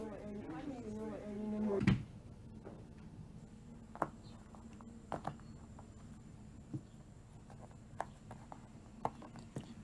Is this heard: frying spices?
no